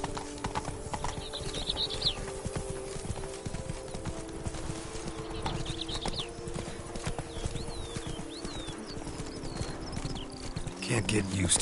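A horse gallops in The Witcher 3: Wild Hunt, rapid rhythmic hoofbeats pounding continuously and close over a quiet ambient bed, with faint bird calls and a voice speaking partway through.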